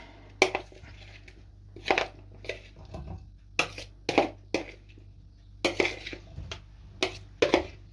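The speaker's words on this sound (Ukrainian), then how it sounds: "Салат перекладу в цю тарілку." Short scraping and clinking sounds of salad being moved onto a plate, several separate bursts with quiet gaps between them.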